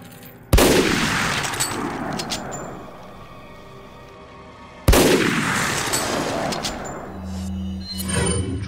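Two loud gunshots in the Resident Evil 4 video game, each a sharp blast followed by a long rolling echo, spaced about four seconds apart, with faint game ambience between them.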